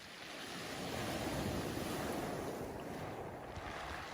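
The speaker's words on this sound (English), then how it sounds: "waves coming onto the beach" Ocean waves wash onto a beach in a steady, dense roar of surf with wind blowing across it. The sound stays loud and continuous throughout, with no voices.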